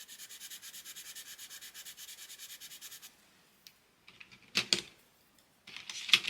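A charcoal coloured pencil is rubbed back and forth on paper in quick, even strokes for about three seconds, then a pause and a few scattered scratchy marks, quiet and close.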